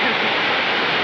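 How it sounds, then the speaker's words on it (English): Small waterfall on the River Una in a Bosnian village, a steady broadband rush of falling water filling the whole moment, close and loud with no break. "welcome to the River Una and the small waterfall"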